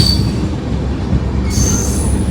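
Tambaram Express passenger train rolling along the rails between Rameshwaram and Chennai, a steady, loud, close rumble of wheels and carriage noise with a faint high squeal, continuous and without voices.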